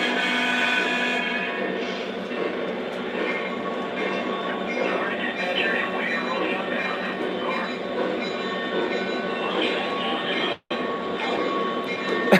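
Lionel and MTH model E8 trains run on a layout, giving a continuous mechanical whir and rattle with faint wheel squeal, close by and steady, with a brief dropout near the end.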